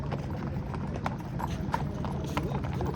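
Hooves of Nukra horses clip-clop steadily at a horse show in Jagraon, a busy, continuous patter of footfalls over a noisy outdoor crowd background.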